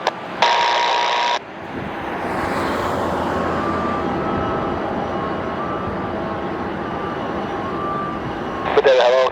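Bombardier Global Express XRS business jet taking off at Madeira Airport, a sustained loud engine roar with a rising whine, preceded and followed by brief radio chatter in a voice.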